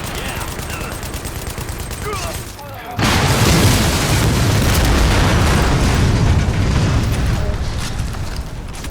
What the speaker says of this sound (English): Shot grenade headed out.